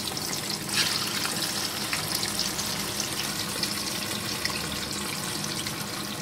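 Fish fingers deep frying in hot oil give off a steady, dense sizzle and crackle that fills the whole stretch, close and continuous with no talking.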